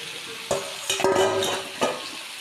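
Salted, turmeric-coated fish slides into hot spiced oil, bursting into a steady sizzle with a few sharper spits and splashes across a couple of seconds.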